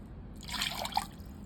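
Water trickles briefly and softly into a yeast dough mixture being prepared for feteer, a short quiet splash and drip against a faint background.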